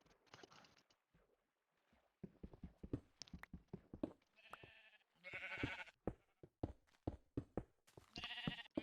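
Sheep bleats from the blocky game world of an early alpha Minecraft build recur in short nasal bursts, interleaved with rapid clicking taps and soft thumps, a few close bleats standing out over the busy clatter.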